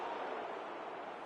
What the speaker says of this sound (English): a lot of applause for the thought